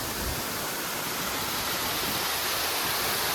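A waterfall in the Western Ghats roars as a steady, dense hiss of falling water, continuous and even, with no voices.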